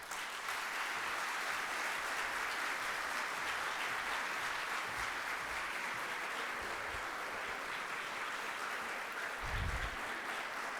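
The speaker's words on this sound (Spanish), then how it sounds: "Merecida la ovación." Sustained ovation from a geography congress audience, dense even clapping heard at moderate distance with faint low thumps near the end, no voices over it.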